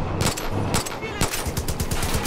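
Gunfire in the video game Far Cry 5 crackles in rapid, uneven bursts of close, loud shots that run almost continuously over a brief stretch.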